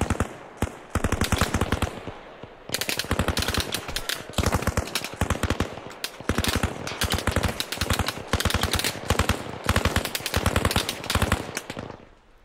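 Rapid machine gun bursts from Arma Reforger gunfire fill the scene, sharp repeated rattling volleys with brief gaps between them, loud and close.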